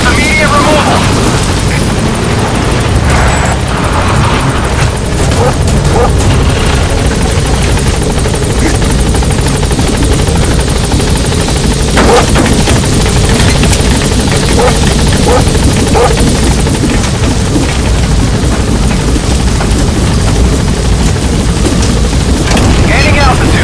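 Helicopter in Metal Gear Solid V: The Phantom Pain climbs away after failing to land at an obstructed landing zone, a loud continuous rotor roar with steady rumble throughout, overlaid by radio-style voice chatter.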